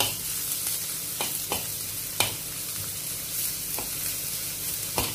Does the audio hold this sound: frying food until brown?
yes